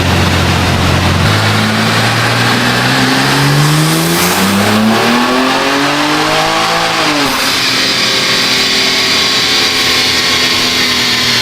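A tuned BMW M3 CS G80 engine roars through a full-throttle acceleration pull on E40 fuel, its pitch climbing steadily through the revs before a shift, very loud and close throughout.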